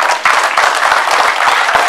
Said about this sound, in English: So let us give them a round of applause.